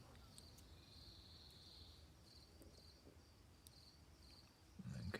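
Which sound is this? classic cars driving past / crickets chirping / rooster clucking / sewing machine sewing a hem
crickets chirping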